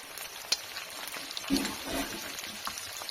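Steady crackling sizzle of turmeric and chili powder frying in hot oil with onions, with faint scraping stirs and small pops, close and continuous.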